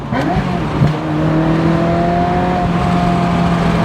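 A Ferrari F355 GTS engine blips and revs as it drops from fourth to third gear, a loud, close, rising mechanical howl that quickly settles into a steady higher-pitched drone.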